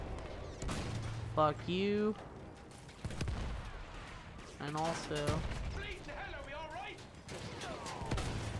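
Bursts of gunfire crackle through a Battlefield One match, rapid shots and heavier blasts scattered across the scene, while a player swears and talks loudly over it.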